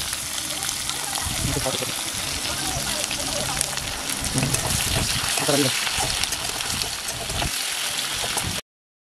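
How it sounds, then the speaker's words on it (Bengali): Chopped onions and green chillies fry in oil until brown, giving a crackling, splattering sizzle with bursts of stirring while a voice talks over it. "তেলের মধ্যে পেঁয়াজ কুচিগুলোকে দিয়ে ব্রাউন করে ভেজে নেব।"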